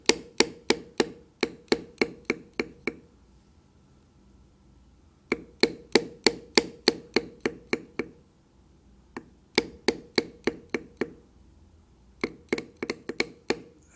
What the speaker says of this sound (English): I'm now just using this beveler to separate the wing from the body.